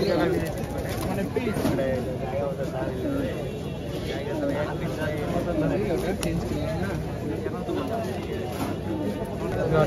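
Pigeons coo and rustle at a busy Rajshahi livestock market, soft calls blending into dense crowd chatter and nearby talking voices that run throughout.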